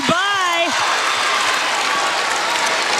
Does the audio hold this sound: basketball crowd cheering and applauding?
yes